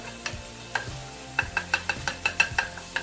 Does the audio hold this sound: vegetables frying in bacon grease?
yes